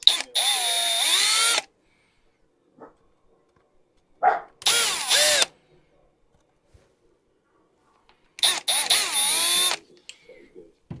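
A power drill reams out a hole on an X-Maxx RC car in three short close bursts, each lasting about a second, separated by quiet pauses with small handling clicks.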